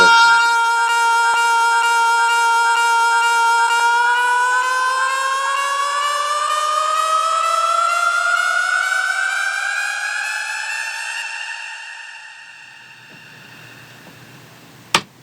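A vocal riser effect made from a bounced acapella, with reverb automated up, holds a bright, pitched tone that glides steadily upward for about twelve seconds. It then thins into a faint reverb wash and ends with a sharp click.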